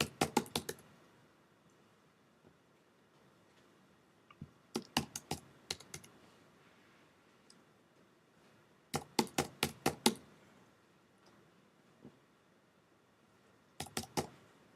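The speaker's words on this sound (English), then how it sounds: "let me finish typing it in and I'll explain it as best I can" Computer keyboard keys clicked in quick bursts while code is typed, short clusters of close, crisp keystrokes separated by pauses, with no talking.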